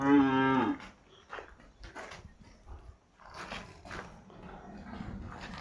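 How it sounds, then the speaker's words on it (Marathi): A cow that has calved twice, being offered for sale, gives one loud, close moo at the start, followed by quieter shuffling and faint farmyard sounds. "दुसऱ्या व्याताची गाय"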